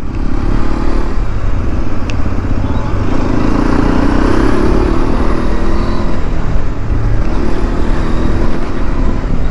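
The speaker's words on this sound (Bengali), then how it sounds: "এই বাইকটা চালিয়ে কীরকম পারফর্ম করছে" A Hero Xpulse 210 4V motorcycle rides over a rough road, its engine a loud steady drone mixed with heavy wind rush and occasional rattles, recorded up close.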